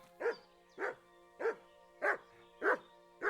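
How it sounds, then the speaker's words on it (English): A dog barks in the video game Kingdom Come: Deliverance II, six evenly spaced, fairly loud barks over a steady low hum, with no talking. "Good dog, Mutt."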